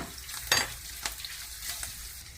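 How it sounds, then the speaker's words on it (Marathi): Asafoetida sizzles in a hot tempering with green chillies for cabbage pachadi, a close steady frying hiss with a few spoon stirs and scrapes over it. "आता आपण थोडा हिंग घालणार आहोत"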